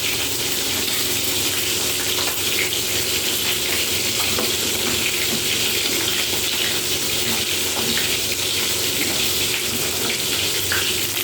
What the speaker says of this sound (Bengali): ডিমগুলোকে ভাজতে বসিয়ে দিয়ে